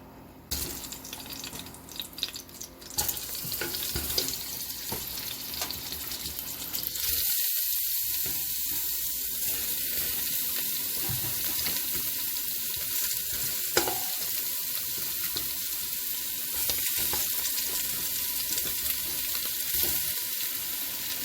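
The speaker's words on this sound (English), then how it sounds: "put it in the pan with the oil, and we want to brown all the sides of the oxtail" Oxtail pieces dropped into hot oil in a pan, bursting into a loud, steady, close sizzle that builds after a few initial clatters and continues unbroken, crackling densely throughout.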